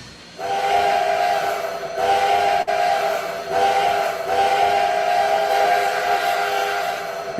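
A loud, sustained chime-toned train whistle in a video game blows in several long blasts with short breaks between them, no talking.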